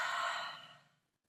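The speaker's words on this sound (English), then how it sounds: "Really connect to your breathing." One deep, airy exhale during a yoga class, breathy and close, fading out gradually into silence.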